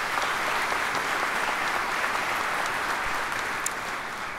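Crowd at the 2020 Mississippi governor inauguration ceremony applauds for transportation commissioners, a broad continuous roar of many hands clapping, steady and loud throughout with no talk over it.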